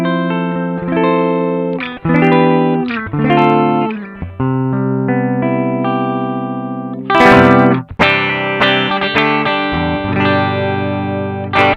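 Gibson ES-335 electric guitar in the middle mixed-pickup position, run through a Koch Pedaltone tube preamp with the effect bypassed and recorded from line out: a sequence of ringing picked notes and strummed chords with sustained tails, played alone without any talking.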